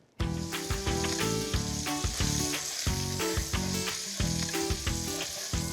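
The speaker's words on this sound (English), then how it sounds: "I'm gonna add my country sausage right to the rendered fat from the bacon." Country sausage frying in rendered bacon fat in a pan, a loud, close, continuous sizzle with rhythmic surges as the meat is stirred, no voices.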